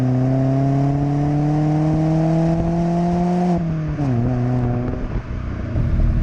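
Opel Corsa D engine and exhaust fitted with a Sportex back box, a steady close-up drone that rises slightly in pitch, then dips and settles as the revs change, with no talk over it.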